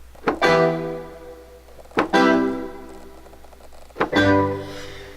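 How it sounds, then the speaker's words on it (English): Three sustained synth chords, each struck with a soft attack and held for nearly two seconds, bright and harmonically rich, played alone. "I started with this like super simple synth sound, and I just started playing these chords."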